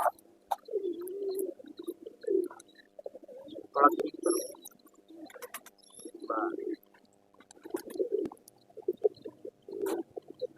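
A pair of home-bred pigeons coo softly and repeatedly at close range, with low rolling calls in uneven bursts separated by short pauses and a few faint rustles.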